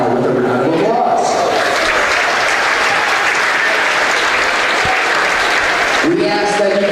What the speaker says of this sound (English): please join me in extending a special thank you to the officials now with a round of applause